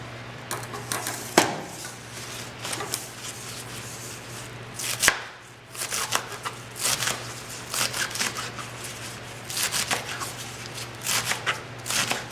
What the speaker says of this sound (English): I'm just going to chop up